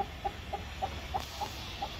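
A hen clucks in short, evenly spaced notes at a moderate distance, seven or so soft calls over quiet ambient noise.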